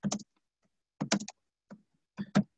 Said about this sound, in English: I apologize, I'm going to be typing real slow.